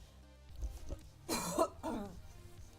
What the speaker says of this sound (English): And have another coughing fit.